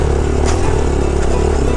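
A motorcycle climbing a steep dirt trail off-road on the Rumli route in the Margalla hills, its engine a close, steady mid-range drone with clattering and brief revs over the short stretch.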